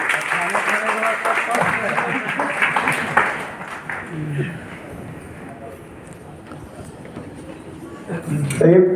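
Loud applause from an audience at a Hindi motivational business talk, dense clapping for the first few seconds that thins out and fades, with a speaker's voice and room echo mixing in.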